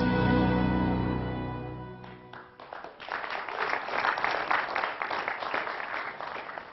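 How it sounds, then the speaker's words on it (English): At a university business forum, a musical tone fades out and audience applause rises, a fairly close, dense patter of clapping that continues steadily to the end. "Doug, you don't have to begin the applause each time"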